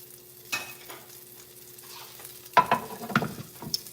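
A spatula scrapes pancake batter studded with banana and blueberries out of a bowl, with a single clack early on, then a burst of quick, close scraping strokes over a faint background hum.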